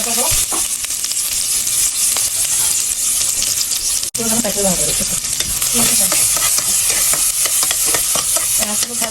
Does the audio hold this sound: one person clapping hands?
no